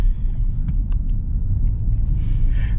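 A Buick driving off-road on a slippery road makes a low, steady engine and tyre rumble up close. A brief hissing burst near the end may be tyres or spray.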